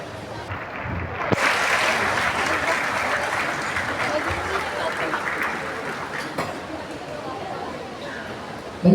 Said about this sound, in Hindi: भाई तालियां रुकनी नहीं चाहिए रमना साहब के लिए।